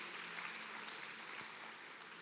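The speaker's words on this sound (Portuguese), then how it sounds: "Aplauda o Senhor," A church congregation applauding during a celebration service: soft, distant, continuous clapping with a faint murmur beneath and one brief sharper clap near the middle.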